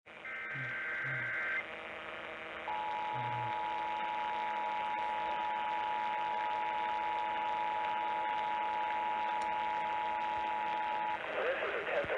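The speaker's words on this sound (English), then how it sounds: "This is a test of the emergency alert system and NOAA weather radio's warning alarm" On a NOAA weather radio broadcast during a required monthly Emergency Alert System test, brief buzzy data bursts come first, then a single loud, steady warning alarm tone holds for about eight seconds over faint static.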